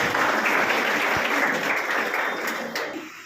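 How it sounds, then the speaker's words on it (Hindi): Audience at an anchored program in Hanumangarh Junction applauds a guest, a steady wash of many hands clapping at moderate distance that thins slightly toward the end, with no talk over it. "एक बार तालियों से उनका फिर से स्वागत किया जाए।"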